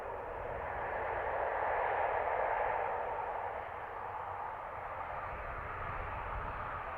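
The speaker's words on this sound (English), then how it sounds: "Obviously not reverser noise on an ATR, it's the pitch change of the rotors" An ATR turboprop airliner landing at Dublin Airport, heard from a distance as a broad, faint propeller roar that swells for a few seconds and then eases to a lower steady drone.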